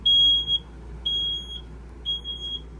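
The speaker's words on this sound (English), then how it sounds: "It also has a smoke alarm in it." Three short high-pitched electronic beeps from a smoke alarm inside a truck camper, evenly spaced about a second apart, loud and close, with no talking.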